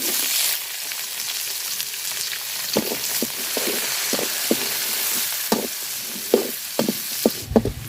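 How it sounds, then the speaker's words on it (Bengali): Chopped onion and chilli sizzle steadily in a hot pan while fish is being cooked, with scattered stirring clatters and scrapes growing more frequent toward the end, close and alone. "পেঁয়াজ কুচি আর মরিচ কুচি দিয়ে দিলাম"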